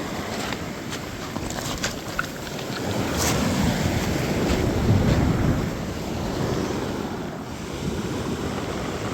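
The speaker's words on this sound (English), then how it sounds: "Wait for the next wave here." Ocean surf along a Southern California shoreline, with waves washing and breaking in a continuous roar that swells to a peak midway, mixed with wind buffeting the microphone.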